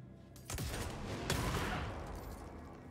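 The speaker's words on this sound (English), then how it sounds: "I love the, like, inverse explosion thing that does" A reversed, inverse explosion effect in Assassin's Creed Unity, a sharp burst-like whoosh with a swept tone near the start followed by a second strong hit and a sustained crackling rumble that fades, quiet overall.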